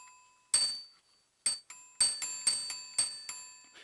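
Bell of a vintage 746 telephone struck by its clapper, giving about eight sharp metallic dings with ringing decay, some single and some in quick succession, close and clear with no talk.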